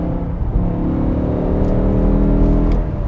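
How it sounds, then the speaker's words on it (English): A BMW E60 M5 V10 engine revving under light throttle, a smooth rising intake howl and exhaust growl, close and continuous. "give it a little bit of throttle and you can hear the intake noise, the exhaust sound"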